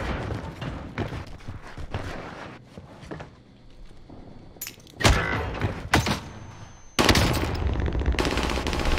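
Video game gunfire in loud bursts, with rapid automatic fire early on and heavier booming volleys later, plus thuds and clatter in between.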